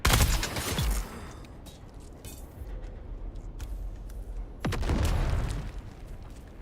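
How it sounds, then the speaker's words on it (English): Grenade blasts in Dune Awakening, two heavy booming explosions, one at the start and another midway, each loud and close with a crackling, rumbling tail and quieter combat noise between them. "Throwing grenade."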